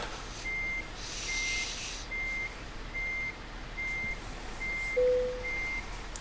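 A short truck reverses and maneuvers in Euro Truck Simulator 2. A steady series of evenly spaced reversing beeps sounds over a low engine rumble, with a brief air hiss or brake tone near the end. No one speaks.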